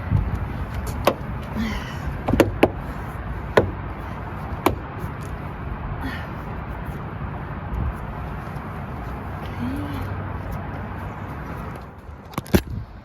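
Plastic trim clips on the driver's door panel of a 2024-2025 Honda HR-V snap into place during a side mirror replacement, several sharp close clicks spaced irregularly over a steady low background hum.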